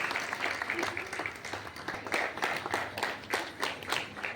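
Applause from a crowd at an annual prize distribution function, a steady patter of many hands clapping, somewhat distant and continuous throughout.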